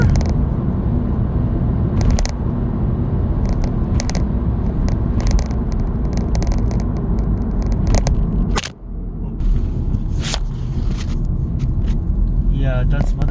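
A Nissan GTR passing on a road between Chiba and Tokyo, heard from inside a moving car as a loud, steady low engine and road rumble with a brief dip in level partway through.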